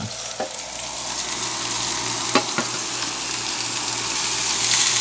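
Sliced banana blossom fries with cooked onions in a pan, producing a loud, steady sizzle with a couple of brief stirring knocks, no voices.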